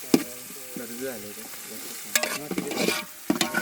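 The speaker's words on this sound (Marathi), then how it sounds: "कांद्याला पूर्ण लाल कलर येईपर्यंत फिरवत बस." Onions being stirred and fried in a pan at a village chicken party, with a spatula scraping and clattering over a soft sizzle, close by.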